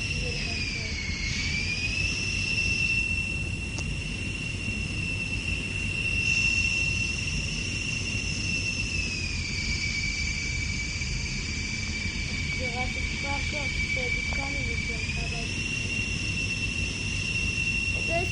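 A steady droning video-game airplane engine hums throughout, its pitch dipping and rising a couple of times, loud and continuous with faint voices underneath.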